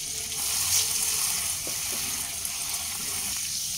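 Steady sizzle and bubbling of water poured into a pan of mustard fish masala frying with Kashmiri red chili powder over medium flame, continuous and moderately loud with no talk.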